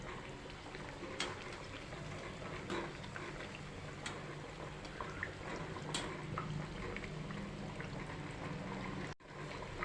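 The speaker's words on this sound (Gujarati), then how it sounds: "આપણે આ કચોરીને ફેરવી લઈશું બીજી બાજુ તળી લઈશું" Green pigeon pea kachori deep-frying in hot oil, giving a steady, dense bubbling hiss that runs the whole time with a few soft clicks, close and even, with no talk.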